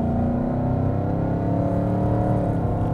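A 2018-2023 Ford Mustang GT fitted with an Edelbrock E-Force supercharger accelerates at part throttle, heard from inside the car as a steady, loud engine drone with harmonics that climb slowly and keep going for the whole stretch.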